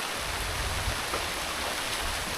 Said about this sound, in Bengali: সকাল থেকে প্রচুর পরিমাণে প্রচুর পরিমাণে বৃষ্টি চলছে একদম থামছে না